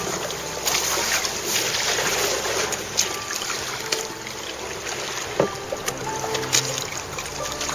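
Wind blows steadily across open water during a boat crossing toward a bridge-tunnel, a broad close rushing noise with occasional thumps and knocks from the craft.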